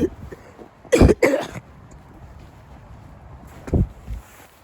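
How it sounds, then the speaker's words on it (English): Two harsh coughs, one a quick double burst near the start and a shorter one later, sound close against a quiet room with faint movement between them. "I have a cough."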